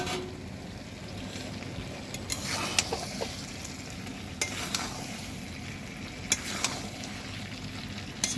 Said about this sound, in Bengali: চিকেন দিয়ে ভালো করে মিক্স করে নেব।